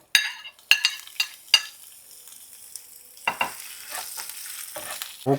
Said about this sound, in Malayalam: ഇത് ജസ്റ്റ് നമ്മൾ ഇട്ട് കൊടുത്തിട്ട് അതൊന്ന് മൂക്കുന്ന വരെ ജസ്റ്റ് ഒന്ന് ഇളക്കി കൊടുക്കണം